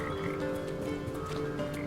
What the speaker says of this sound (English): I forgot that there were frogs this early in the game.